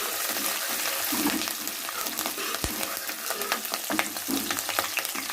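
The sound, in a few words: green chillies frying with browned onions in a pan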